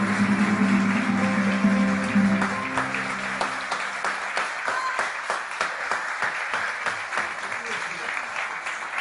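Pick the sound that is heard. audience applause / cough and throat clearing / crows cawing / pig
audience applause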